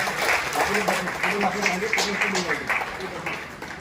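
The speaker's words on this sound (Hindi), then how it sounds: "जोरदार तालियां" Applause rises at a national conference in Ekta Nagar as a guest is welcomed, the clapping crowd spread steadily underneath someone speaking over a microphone.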